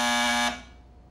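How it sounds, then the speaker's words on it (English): A cartoon buzzer sounds a loud, steady electric buzz for about half a second, then cuts off abruptly and leaves a brief fading ring. "Now, Dennis, if you need anything, just buzz this buzzer and I'll come running"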